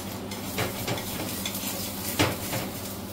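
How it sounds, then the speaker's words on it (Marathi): Coriander dhapate flatbread being moved around on a not-too-hot tava griddle, with a soft sizzle under scraping and light metallic clinks of a utensil, close up. "सगळीकडून हलवून घ्यायचंय."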